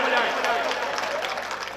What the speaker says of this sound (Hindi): दोनों हाथ खड़े के बाद जोरदार तालियां बजाएं